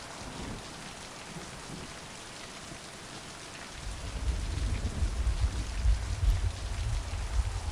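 Steady rain patters across the whole stretch in the video game Mind: Path to Thalamus, with a deeper low rumble of heavier downpour swelling in partway through and continuing to the end.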